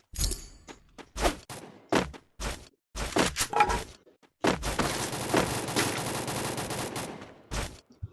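Heavy gunfire from an M82B sniper rifle in a video game, first several separate loud booming shots with short gaps, then a dense sustained burst of rapid fire, close and without talk.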